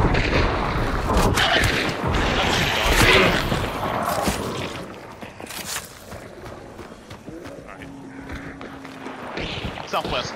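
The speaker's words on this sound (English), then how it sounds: "Southwest, gunshots." Gunfire from the Hunt: Showdown video game sounds as booming shots and thuds, with footsteps in between, all under players talking.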